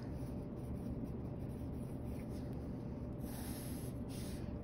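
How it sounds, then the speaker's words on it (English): A pen or pencil underlines a title on a sketchbook page with a faint, close, dry scratching stroke against quiet room noise, with no talking. "I always like to underline things."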